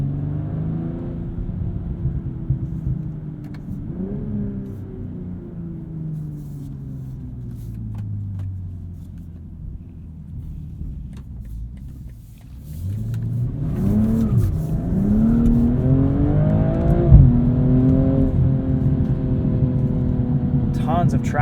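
A 2022 BMW M240i xDrive coupe drives in snow, its engine humming at low revs before rising into strong revving and acceleration, close and loud, with someone talking over it.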